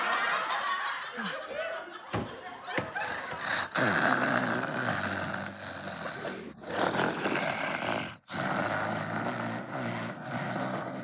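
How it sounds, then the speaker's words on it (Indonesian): Loud, rasping snores repeat in a rough rhythm, close by, with some laughter mixed in. "Ada suara yang ngorok."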